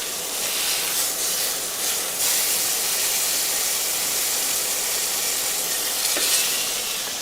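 Pork chops fry in a hot pan beside kidneys being lifted out to rest, giving a steady loud sizzle and hiss throughout, with no one speaking.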